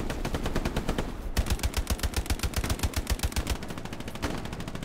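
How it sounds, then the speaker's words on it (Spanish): Machine gun fire in the World War II shooter game Hell Let Loose, loud rapid continuous bursts with a short gap, then a faster steady stream of shots, no talking. "No sé a qué dispara."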